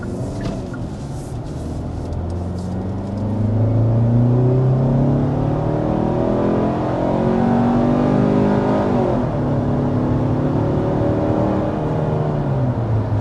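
A 2025 Kia Sportage SUV driving in sport mode, its engine droning and rising through gears with a steady interior road roar, growing louder after a few seconds and holding a sustained, fairly loud hum.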